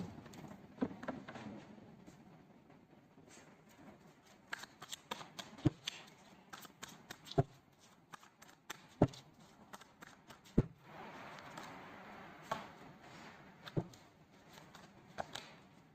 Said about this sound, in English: So let's pull some cards from universe where this connection is headed on and the outcome.